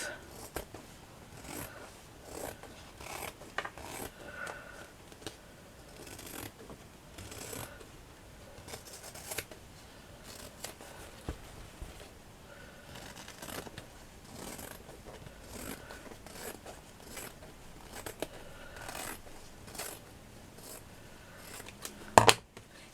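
Scissors snip through craft material for a shabby chic wall hanging: quiet, close, irregular crisp cuts and rustles over more than twenty seconds, with a sharper clack near the end.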